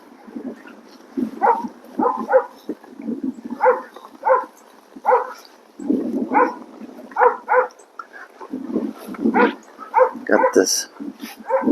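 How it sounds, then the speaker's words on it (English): Dogs bark in short, repeated bursts at moderate distance during a horseback ride past a pond, with a voice speaking over parts of it. "Some dogs barking over there,"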